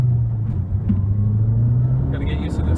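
A 2008 Mazdaspeed3 pulls onto a roadway under light throttle, its engine a steady low drone that swells slightly near the end while someone talks over it.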